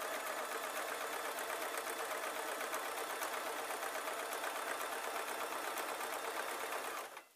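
Sewing machine running continuously while stitching over a seam on a string bag, a fast even whirring hum up close for about seven seconds before stopping abruptly.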